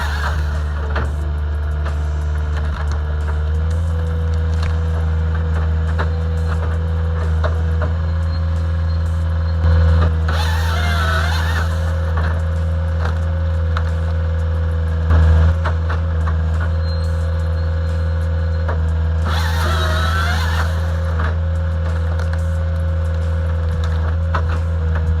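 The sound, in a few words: firewood processing attachment on heavy machine splitting logs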